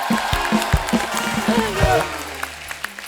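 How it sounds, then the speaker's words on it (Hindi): Studio audience applause on a Hindi comedy talk show, a broad wash of clapping blended with voices and crowd noise that fades toward the end. "इनकी सिंपलिसिटी के लिए एक बार जोरदार तालियां बनती है बड़ो"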